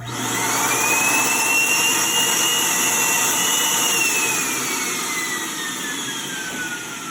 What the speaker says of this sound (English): I'm going to turn this one on without the muffler.